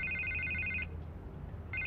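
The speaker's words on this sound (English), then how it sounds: "I can't get the phone to stop ringing." An electronic telephone rings in the Telltale Batman video game, a bright warbling trill lasting almost a second, a pause, then the ring starting again over a low game ambience.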